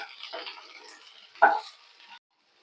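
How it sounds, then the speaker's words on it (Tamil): Brinjal pieces are sautéed in sesame oil, giving a soft hiss and sizzle from the pan with one brief louder stirring burst midway before the sound cuts off. "ஒரு நிமிஷத்துக்கு நல்லா வதக்கி விடுங்க."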